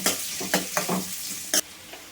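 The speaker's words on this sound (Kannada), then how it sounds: "ಹಸಿ ಮೆಣಸಿನಕಾಯಿ, ಆಮೇಲೆ ಈರುಳ್ಳಿ. ಇಷ್ಟು ಹಾಕಿ ಬೇಯಿಸ್ಕೊಳ್ಳೋಣ." Green chillies and onion stirred in a hot pan, with a few sharp scraping strokes of a spoon over a soft sizzle, close and fairly quiet, no voices.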